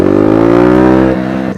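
A Sinnis Apache 125 motorcycle engine held at high revs close up, a loud steady buzzing drone that dips slightly near the end, with no talk.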